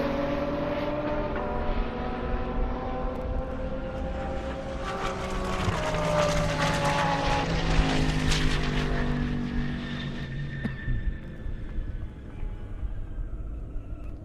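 Drag racing on a half-mile airport strip, a 1,200-horsepower Camaro and a 1,700-horsepower Lamborghini Huracan: a sustained, distant engine roar with rising and falling tones that swells mid-run, then fades.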